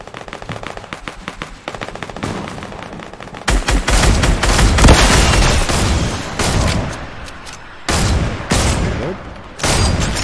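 Gunfire in Fortnite, including a sniper rifle, comes as loud, close bursts of repeated shots with short pauses between volleys, alone and without talking.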